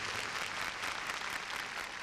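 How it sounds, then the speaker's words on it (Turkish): A congregation at a televised faith-healing church service claps continuously and steadily, with dense, even applause and no voices. "Ve şimdi hep birlikte İsa Mesih'e koca bir alkış verelim."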